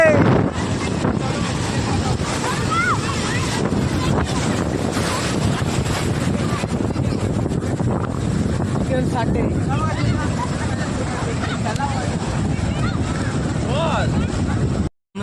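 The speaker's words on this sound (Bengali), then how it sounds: "ও বন্ধুরা ঢেউ দেখো, এই হচ্ছে ঢেউ।" Sea waves roll and wash in at Old Digha beach under heavy wind buffeting the microphone, a continuous loud roar of surf with voices faintly mixed in.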